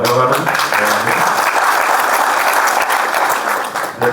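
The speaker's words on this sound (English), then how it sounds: "A round of applause for Governor." Applause from a conference audience welcoming a governor, loud and sustained broadband clapping that fills the whole stretch, with faint voices mixed underneath.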